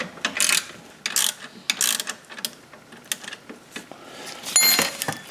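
A ratchet wrench clicks in quick bursts while unscrewing a 13mm nut on the front subframe adjustment bolt of a BMW E32 735iL, close and fairly loud, with short pauses between runs of ratcheting.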